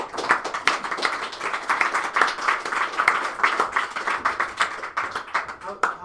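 Audience applause after a game presentation at a Global Game Jam event in Louisville, Kentucky: dense, steady clapping from a room of people lasting several seconds at even strength, with a few voices mixed in.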